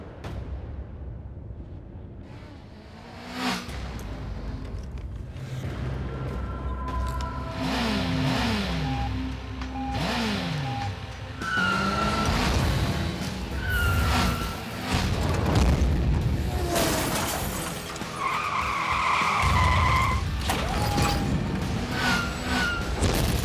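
Race car engines revving and roaring past, with rising and falling pitch sweeps, skids, booms and crash-like impacts layered over one another, loud and busy throughout.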